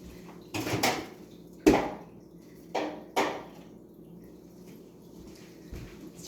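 Meat being stirred in a pan gives a few scraping, clattering knocks of a utensil against the cookware, spaced irregularly over low background hiss, with no talking.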